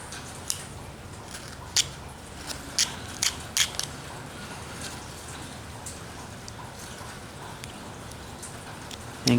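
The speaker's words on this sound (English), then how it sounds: "You have to kind of go back and forth with your knife, getting those areas in there" A knife carving a wooden roughout figure, working back and forth into tight areas: light scattered scraping cuts and sharp nicks over steady background hiss, fairly close.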